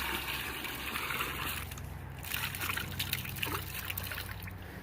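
Gold concentrates swirled in a pan and tipped back into a water tub beside a fluid bed sluice, giving soft close trickling, sloshing and dribbling water with a few light splashes.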